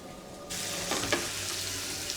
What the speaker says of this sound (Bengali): চিকেনটা আমি সুন্দর করে ভেজে নিচ্ছি।